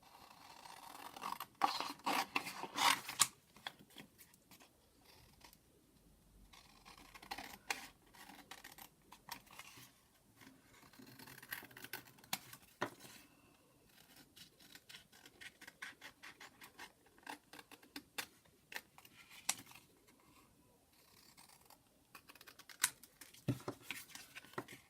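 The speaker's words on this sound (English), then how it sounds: "Okay, so I'm going to cut those out." Scissors cutting out paper pieces: repeated snips and scratchy rustles in uneven bursts with short pauses, faint and close, without speech.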